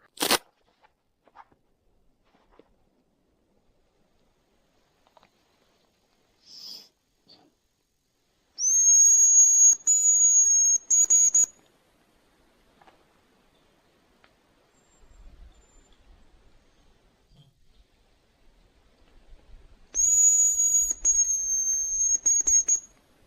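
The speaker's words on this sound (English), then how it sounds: "there are a ton of hazel grouse around. They're whistling." Two bursts of high, thin, sustained whistling from hazel grouse in wilderness, a few seconds each and separated by a long quiet stretch, ring out clearly against near silence.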